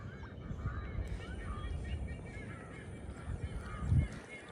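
Crows call faintly in the distance outdoors, a few scattered caws over a low background rumble.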